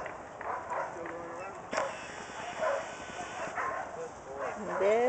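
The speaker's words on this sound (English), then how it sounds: "This is Stitch, the trainer's dog." A trainer's dog at a K9 academy yips and whines in short, moderately loud bursts through steady background noise, with a sharper bark partway through.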